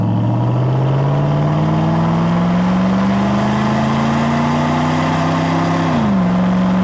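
A 1998 Pontiac Trans Am WS6 with the traction control option accelerates on a test drive, its engine drone rising steadily in pitch, then dropping briefly at a shift. It is loud and close, with no talk.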